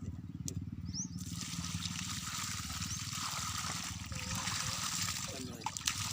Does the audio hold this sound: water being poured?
yes